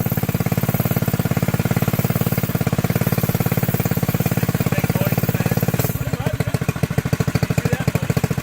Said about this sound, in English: Do you hear any rattling in the front? I think it's the gas tank.